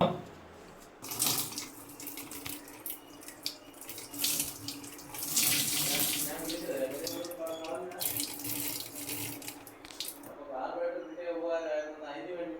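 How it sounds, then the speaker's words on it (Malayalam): Hot water is poured into a part of a dismantled washing machine during cleaning, giving a close, continuous splashing gush for about ten seconds before it stops and a voice is heard. "നമുക്കപ്പോൾ ഇതിലേക്ക് ചൂടുവെള്ളം ഒഴിച്ചു കൊടുക്കാം."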